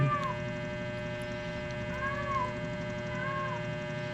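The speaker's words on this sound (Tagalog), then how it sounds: "Ayan, ingay nung pusa," A few drawn-out meows rise and fall, faint and spaced apart, over a steady electrical hum.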